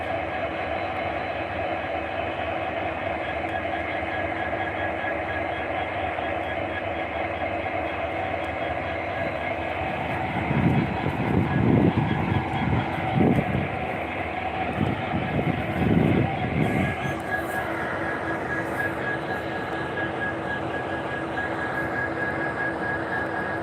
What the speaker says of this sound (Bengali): পঁয়ষট্টিটা বগি আসছে প্রচুর বড় প্রচুর বড় ট্রেন